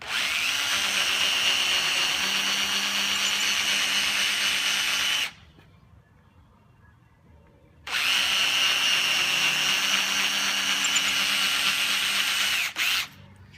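A power drill enlarges a hole to bolt size while building a steampunk gear table: two long, steady, close whining runs, separated by a short quiet pause, with a brief restart at the end.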